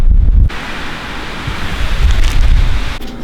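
Strong wind buffets the microphone with loud low rumbling gusts, rising and falling across the clip outdoors among trees.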